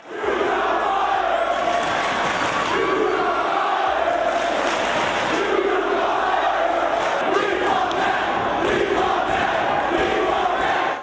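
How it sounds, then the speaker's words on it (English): A large wrestling crowd roars in hostility at Jeff Hardy's Ring of Honor debut, a dense, sustained wall of jeering and shouting that stays loud and unbroken throughout. "the crowd could not be more irate seeing Jeff Hardy in Ring of Honor"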